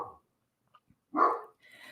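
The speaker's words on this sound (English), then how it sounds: "I hope this dog stops barking." A dog barks indoors, giving a short yelp, then a louder bark and a trailing whine, with quiet pauses between the bursts.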